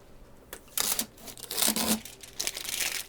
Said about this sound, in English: Let's get this tape off the other side.